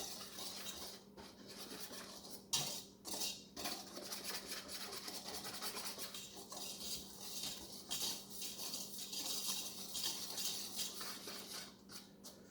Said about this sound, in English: I'm going to combine it, and you're just going to basically stir it until it all looks the same